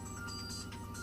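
A work phone's electronic ringtone plays a continuous melodic tone pattern at moderate volume, with no talking over it.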